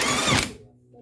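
Impact wrench winding wheel nuts onto a TVR Griffith race car: a loud, dense burst of power-tool whirring lasting about half a second, then fading to quiet workshop hum.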